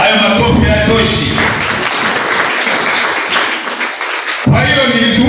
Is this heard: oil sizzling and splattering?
no